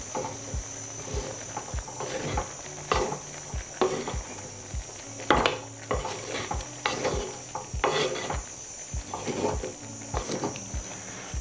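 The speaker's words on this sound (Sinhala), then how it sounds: "මේක දැන් මේ විදියට හොඳට එහා පැත්ත මෙහා පැත්ත කලවම් කරගන්න." Jackfruit thambala being stirred in a pot, with a steady run of scraping, knocking strokes about twice a second, close and moderately loud, over a constant high insect-like whine in the background.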